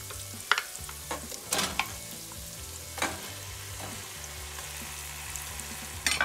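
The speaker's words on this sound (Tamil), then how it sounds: "இப்போ நான் இதில் வந்து சிக்கனை ஆட் பண்ணுறேன்." Marinated chicken frying in a pan with turmeric for a chicken kurma, with a constant sizzle broken by a few sharp stirring clatters, close and without speech.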